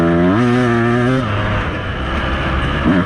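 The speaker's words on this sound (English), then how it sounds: "Might be the first ever time I've whiskey throttled on the 200 there." A Beta 200RR two-stroke dirt bike engine revs hard at full throttle, its pitch climbing then dropping into a rough, loud, close drone, with no talk over it.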